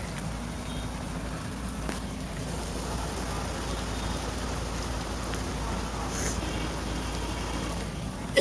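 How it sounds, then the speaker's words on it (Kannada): Steady broadband rain hiss, even and moderately loud throughout, with a low rumble underneath and a brief knock near the end. "ಮಳೆ"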